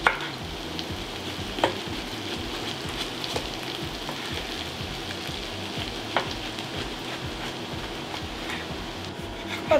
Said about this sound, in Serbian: Povrće i dalje pržimo